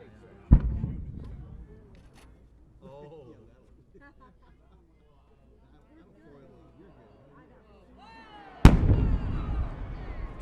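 12-inch Maltese-style multi-break cylinder firework shell bursting: a sharp distant boom, then crackling and faint rumbling, and a second loud burst near the end, with people talking throughout.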